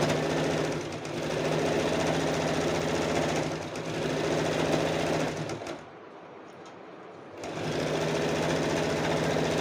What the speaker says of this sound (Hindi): तो स्टिचिंग को हम इस साइड करते हुए पूरी स्टिचिंग देंगे